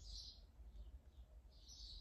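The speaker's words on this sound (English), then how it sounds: "Can you hear all them birds? Listen." Birds chirp faintly outdoors in two short bursts of high, bright tweets at the start and end, set against a low, quiet background hum and with no one speaking.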